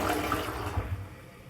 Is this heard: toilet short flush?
yes